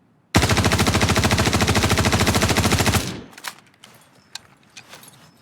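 Sustained burst of rapid automatic fire in a video game, loud and close, hammering steadily for about three seconds before cutting off into scattered clicks and faint handling noises.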